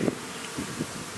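Honey bees buzz around a hive's honey super during an inspection, a continuous close insect hum with slight swells in loudness.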